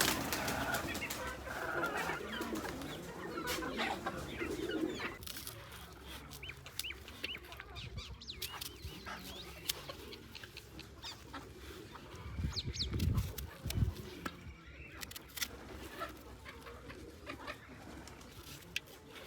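Farm hens clucking and cooing in a flock, with steady overlapping bird calls and scattered rustling nearby, a few louder low thumps and flutters partway through.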